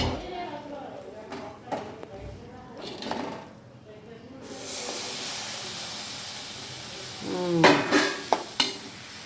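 Food is stirred in a hot pan on a home kitchen stove, with a steady sizzling hiss in the second half and utensil scrapes and clinks near the end, under intermittent talking.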